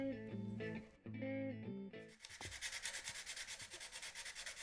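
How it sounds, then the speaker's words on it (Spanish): Musical notes ring briefly, then rhythmic back-and-forth sandpaper strokes scrape steadily and close up on an electric guitar body in a guitar workshop, each stroke a distinct rasping swish. "Solo la lija rasga el silencio de este taller de guitarras eléctricas"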